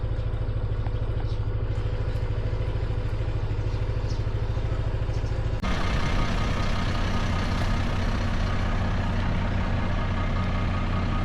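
A vehicle engine idles with a low, throbbing exhaust rumble on a mountaintop in Cebu, growing louder and rougher about halfway through as it revs up nearby.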